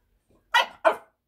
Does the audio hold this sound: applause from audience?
no